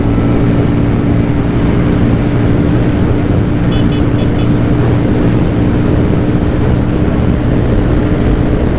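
An FKM Victorino 250i motorcycle runs flat out at top speed, a loud steady engine drone mixed with heavy wind rush, holding constant throughout with no talk.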